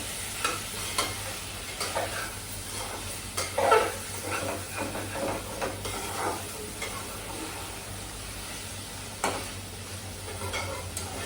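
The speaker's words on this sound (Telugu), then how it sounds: "మటన్ ముక్కలు వేసేద్దాం. వేసి ఒక 1-2 నిమిషాలు కొంచెం ఇట్లా నూనెలో వేద్దామండి." Mutton pieces frying in oil, a soft continuous sizzle with occasional scrapes and stirring clicks from a utensil in the pan, fairly quiet and close, with no talking.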